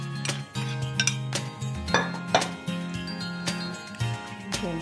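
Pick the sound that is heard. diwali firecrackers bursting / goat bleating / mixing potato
mixing potato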